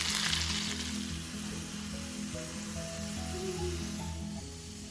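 Fish coated in masala frying in a pan, cooked the traditional way: a steady, close sizzle with an oily hiss, unbroken throughout, with faint tonal sounds underneath.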